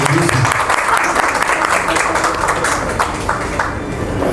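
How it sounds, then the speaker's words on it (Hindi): An audience applauds a new singer at a live music performance, dense continuous clapping that starts loud and tapers slightly, with voices mixed into the crowd noise. "तो लगातार आधे मिनट की ताली इस नए कलाकार को दीजिए आप"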